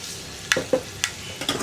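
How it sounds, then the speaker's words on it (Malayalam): Half a teaspoon of fenugreek seeds hits hot coconut oil in a pan, giving a soft sizzle broken by a few sharp clinks and stirring taps at close range. "ഞാനിപ്പോൾ ചട്ടിയിൽ കുറച്ച് വെളിച്ചെണ്ണ വെച്ചിട്ടുണ്ട്. അതിലേക്കൊരു 1/2 ടീസ്പൂൺ ഉലുവ ചേർക്കുന്നുണ്ട്."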